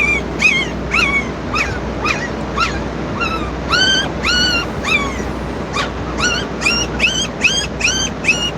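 Several puppies whimper and yip in close succession, high-pitched cries repeating throughout, with steady low background noise underneath.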